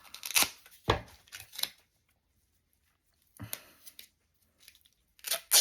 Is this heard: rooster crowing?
no